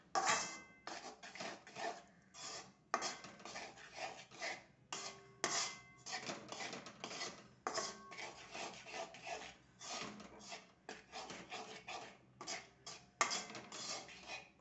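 Flour roasts in ghee in a pan over low heat, heard as repeated close scraping and rubbing strokes of a utensil against the pan in an uneven rhythm, with no talk.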